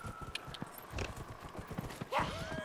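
A horse in the video game Dragon Age: Inquisition clops along, its hooves giving a faint, irregular run of soft thuds mixed with light creaks and a brief tonal chime.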